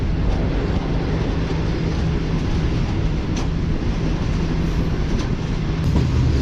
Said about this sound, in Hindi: तो दोस्तों ठीक 11:15 बजे हमारी ट्रेन पहुंच रही है चीचावतनी रेलवे स्टेशन पर